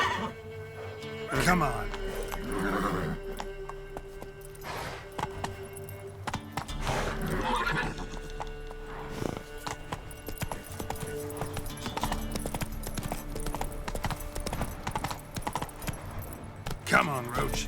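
Roach, a horse in The Witcher 3 video game, clip-clops steadily while ridden and lets out a couple of neighs and whinnies, with someone speaking briefly over the hoofbeats.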